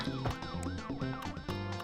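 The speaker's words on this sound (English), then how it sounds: "it's those ambulance noises that Artie and Kuro heard in the car so much" A wailing ambulance siren sweeps up and down in a repeating cycle, fairly loud and continuous, with no talking over it.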